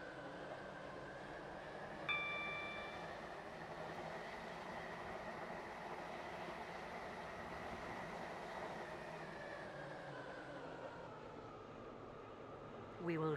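A train runs in the Roblox game Stepford County Railway, its steady low rumble and hum carrying under a recorded onboard announcement, with a short chime near the start.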